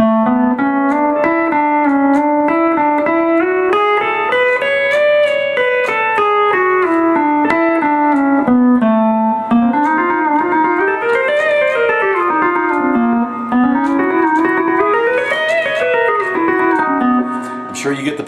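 A pedal steel guitar plays a slow ascending and descending major scale, with smooth sliding pitch bends between notes and sustained, ringing tones.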